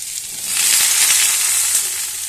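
Vegetables frying in oil in a pan, a loud, close, continuous hiss of sizzling that swells briefly and stays even, with faint stirring underneath and no voices.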